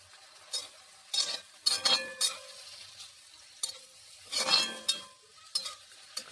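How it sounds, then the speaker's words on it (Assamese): Chopped leafy greens are fried and stirred in a pan, giving repeated bursts of sizzling and scraping with short quiet gaps between strokes. "খুব ধুনীয়াকৈ ভাজি লৈছোঁ গাইজ মই শাকখিনি"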